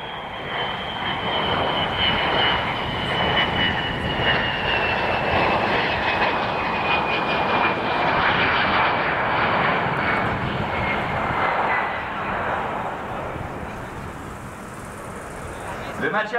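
Beriev Be-200 amphibious jet aircraft passing over Ramenskoye airfield, a loud sustained engine roar with a slowly falling whine as it flies by, steady throughout and easing slightly near the end.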